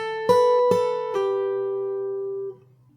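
Acoustic guitar picked fingerstyle plays a short melody: three plucked notes at even intervals, the first struck with a percussive slap, then a last note rings out and fades, close and clear with no voices.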